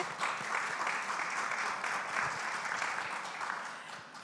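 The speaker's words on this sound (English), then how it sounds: "So please, a round of applause to our great panel today." Steady round of audience applause for a panel on global AI policy at the ASU+GSV Summit 2024, continuous and fairly even before tapering slightly at the end.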